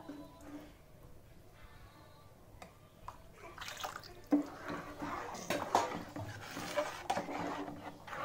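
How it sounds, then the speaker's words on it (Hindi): Dal cooking water is poured into a pot of bean and dal curry, a soft trickle and splash that swells midway, mixed with light clinks of utensils against the pot, close by. "दाल का पानी मैं निकाल कर रख ली थी ना अभी इसे भी इसमें डाल लेना है"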